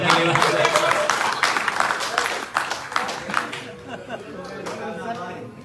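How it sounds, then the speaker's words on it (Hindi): Wedding guests applauding, a crowd clapping in a dense burst that thins into scattered claps and fades, with chatter underneath. "इसके लिए 2 बार तालियां बजाइए इनके लिए।"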